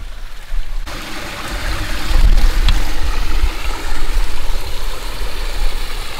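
Steady broadband rush of a stream or waterfall flowing through forest at Odum Tract in the Shawnee National Forest, continuous and fairly loud with a low rumble underneath and no voices.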